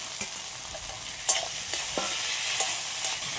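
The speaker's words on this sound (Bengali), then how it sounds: "এবার ভেজে রাখা আলু দিয়ে দিচ্ছি।" Fried potatoes tipped into a sizzling pan of chili-powder spice mix, a bright steady fry hiss broken by quick stirring scrapes and clicks.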